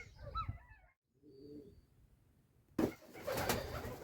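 Soft pigeon coos and murmurs close by in a pigeon loft, broken by a short quiet gap, then a burst of fluttering and rustling noise toward the end.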